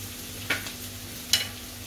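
Onions cooked with green chillies frying in a pan for an eggplant and potato dish, a low steady sizzle broken by two sharp spatula scrapes of stirring.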